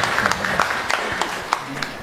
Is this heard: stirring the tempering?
no